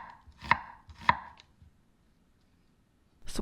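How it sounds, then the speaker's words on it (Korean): Kitchen knife chopping a small amount of onion on a cutting board, with two sharp, distinct knocks about half a second apart, then quiet, and a third chop starting at the very end. "양파를 조금만 썰어주세요."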